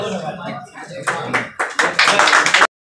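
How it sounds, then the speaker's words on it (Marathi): Applause from a crowd at a felicitation ceremony for newly appointed office-bearers of a group in Malegaon, starting after a second as broken bursts of clapping that swell into steady, louder hand claps before stopping abruptly. "जोरदार टाळ्यांचा गजर मधुभाऊ बिराडे यांच्यासाठी झाला पाहिजे।"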